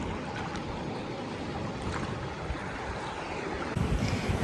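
Waves washing onto the Black Sea shore near Odessa, a constant rushing surf mixed with wind buffeting the microphone, with a louder surge of water at the end.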